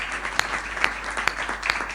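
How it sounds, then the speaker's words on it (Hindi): Audience applause at a Hindi comic poetry gathering (kavi sammelan): a steady wash of clapping with a few sharper, louder claps standing out at regular intervals, fairly light overall. "आपकी तालियां हल्की हैं"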